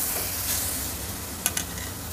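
Grated beetroot being sautéed in ghee in a pan for modak filling, giving a steady close hiss and sizzle with two brief sharp clinks of a spatula, and no speech.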